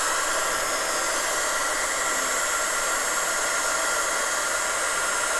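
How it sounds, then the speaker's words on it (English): Heat tool blowing steadily while heat-setting embossing powder on vellum, a continuous airy whoosh held close and loud from start to finish with no pauses. "Then I'm just going to heat set this nice and quickly, making sure there's no bits."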